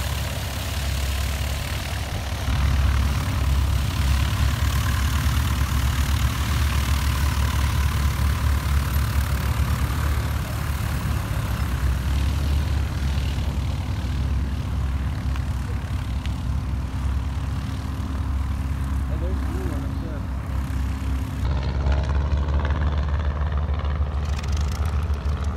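A Waco biplane's engine runs steadily at low power as it taxis into position for takeoff, a continuous deep rumble that stays even for most of the stretch before shifting slightly near the end.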